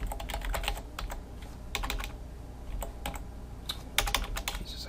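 Bursts of rapid clacking on a computer keyboard come in uneven clusters with short pauses, close and clear over a quiet background, no speech.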